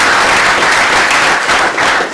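A panel audience at a mobile-technology event applauds a panelist, dense steady clapping from a full room filling the whole short stretch, loud and close, fading slightly at the end.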